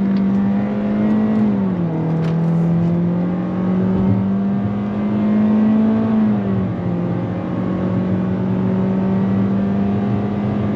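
A 2022 Toyota Corolla Cross engine pulls hard under throttle around a bend, a steady close drone whose pitch climbs and dips with the simulated gear shifts, heard alone without talk.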